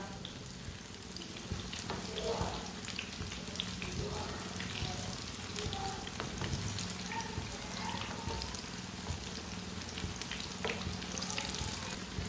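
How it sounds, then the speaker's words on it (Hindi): Pakoras frying in a shallow layer of oil, being turned partway through, give a continuous close crackling sizzle with scattered pops and spits throughout, steady and fairly loud, with no talking. "अब ये वाली साइड से भी 2 मिनट तक पकने देते हैं।"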